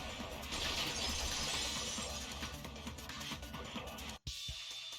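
Glass shatters in a loud, sustained crash from the Danganronpa 2 video game, dense broken-glass debris filling about four seconds before cutting abruptly to near silence, then resuming briefly.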